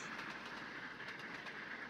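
An LNER Gresley P2 steam locomotive runs in the Trainz video game with a steady, continuous rolling rumble and faint rhythmic wheel clatter on the rails, heard alone and at moderate level.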